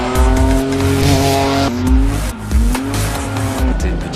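The Renault Twin'Run concept car, a small hatch with a 3.5-litre V6 making close to 350 horsepower, drives hard with loud, rising engine revs, gear changes and tire squeal, close and continuous.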